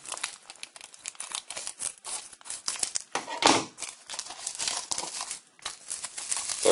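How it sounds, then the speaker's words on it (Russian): Plastic packaging around LED T10 fog light bulbs is torn and opened up close, giving continuous loud crinkling and crumpling with sharp tearing bursts, and no talk. "Видите, я еще не открывал даже упаковочку. Давайте откроем вместе."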